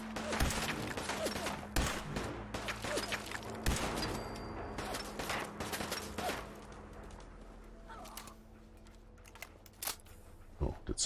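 Scattered gunshots in the game Fallout 4: sharp cracks and short bursts spread across the scene, fairly close, thinning out toward the end with a steady low hum beneath.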